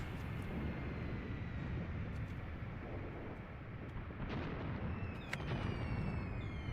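A bomb drop explosion in a WW2 Eastern Front German winter defense video game, a low, rumbling blast heard fairly faint within continuous battle noise.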